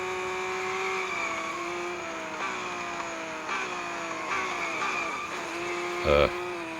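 A car skids in a racing video game on a highway stage, with a droning engine tone shifting pitch, tire noise throughout and a brief louder burst near the end.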